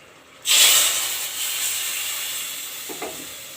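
Hot oil bursts into a loud sizzle as tempering for Rajasthani gatta curry hits the pan, then settles into a steady hiss that slowly fades.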